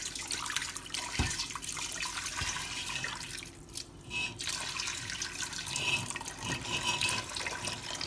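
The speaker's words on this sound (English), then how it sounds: "Now add some hot water to your steamer" Hot water is poured into a steamer while making vadilappam, a steady splashing pour running for several seconds with a brief dip midway, close and alone.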